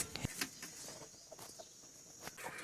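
Faint hens clucking now and then in a quiet indoor hen shed, with a few soft scattered knocks and rustles.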